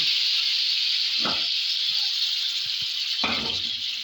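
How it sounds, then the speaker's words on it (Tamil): Mustard seeds, cumin and curry leaves sizzling in hot oil for a kara kuzhambu, a steady bright hiss throughout, broken by two brief soft bursts of stirring or spattering. "கொஞ்சம் கருவேப்பிலை போட்டாச்சு"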